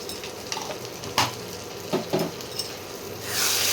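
Dry spices, turmeric and chili powder, sizzle and fry in hot oil for a chili chicken curry, with soft stirring scrapes and a few sharper clinks of a spoon against the pan, the sizzle swelling louder toward the end.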